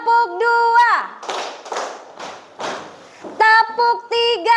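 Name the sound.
class clapping a clap pattern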